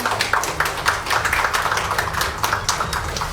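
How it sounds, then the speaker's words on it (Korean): Audience applause at an award ceremony for an information security day event, a steady patter of many hands clapping throughout with no voices over it. "여러분 다시 한번 따뜻한 박수로 축하해 주시기 바랍니다"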